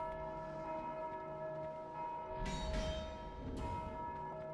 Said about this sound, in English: So hitting the bell actually works.